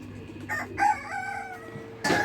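Fifty-day-old young chickens crowing and clucking, a few close, loud, rough crows and clucks in quick succession over a steady low background hum, with no talk.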